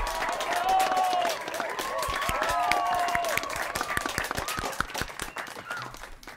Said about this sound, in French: Et là tu l'applaudis pour son retour.